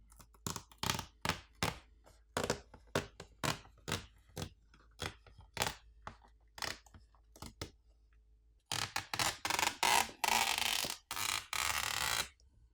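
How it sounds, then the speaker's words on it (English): Rubber feet held down with adhesive being pried off the underside of an HP 14-inch business laptop: a run of sharp, close clicks and snaps at an uneven rhythm, then a denser stretch of scraping and rustling. "The rubber stands on the bottom, which are held down with some adhesive, need to be pried off and removed"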